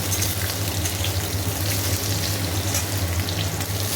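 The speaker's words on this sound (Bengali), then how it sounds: "চলুন আলুগুলো দিয়ে দিয়েছি, একটু ভালো করে ভাজা করব, তারপরে পটলগুলো দেবো।" Potatoes fry in a pan with a steady, close, even sizzle throughout, backed by a low constant hum and no talking.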